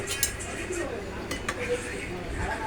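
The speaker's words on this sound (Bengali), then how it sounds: "এই প্রসঞ্জিৎ কি দিয়ে কড়াটা ধরলি হাঁড়িটা কি দিয়ে ধরলি" Metal pots and pans clink and clatter as they are handled in a makeshift kitchen where dal is boiling, with sharp scattered knocks over a steady background hiss and faint voices.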